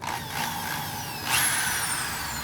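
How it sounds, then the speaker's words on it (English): A steady mechanical whir of a power drill running continuously, mid-distance, with a slight rise in pitch partway through and no voices. "So I went ahead and put in the drill bit."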